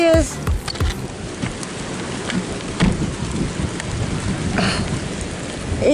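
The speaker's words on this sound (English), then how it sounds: "It is windy and the rain is pouring." Heavy rain pours steadily in gusty wind outdoors on a farm in wet, freezing conditions, a dense continuous hiss with brief sharper gusts and drop impacts close by.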